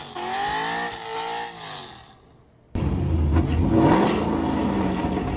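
Engine of a Chevrolet SS sedan, a rare Mystic Green muscle car, running loud and steady, then cutting out briefly before roaring back with a strong, sustained rev up close.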